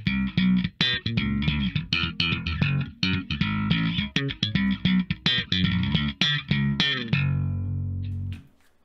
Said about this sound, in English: let's say you have your favorite bass riff and you want to share it with everybody